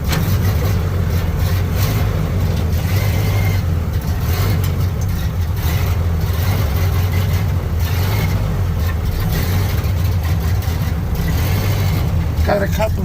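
An old Model A Ford pickup truck's engine runs steadily while the truck is driven, a constant low mid-pitched hum close by with road and wind noise over it, and talk heard now and then over the drone.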